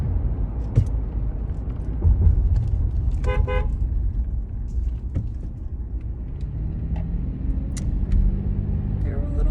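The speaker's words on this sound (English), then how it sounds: "I like honked my horn, y'all heard it" A car horn gives a short honk from inside a moving car, sounding over steady road rumble and engine noise while a person talks nearby.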